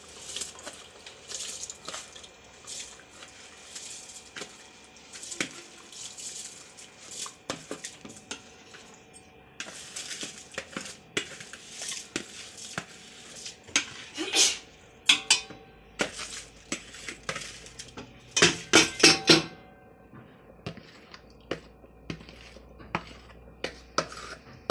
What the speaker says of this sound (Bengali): তারপরে পোলাওর চালটা এখন ছেড়ে দেবো আস্তে আস্তে।